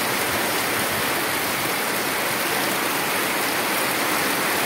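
Steady downpour outside a pigeon loft, a constant loud wash of falling rain with no talking.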